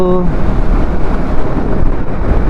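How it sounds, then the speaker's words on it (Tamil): Strong headwind buffets the microphone while riding a KTM Duke 390 motorcycle down from Munnar toward Theni, a steady broadband roar with a brief tonal hum at the start and no talk. "அப்பா எதிர்காற்று ரொம்ப அடிக்குதுங்கோ."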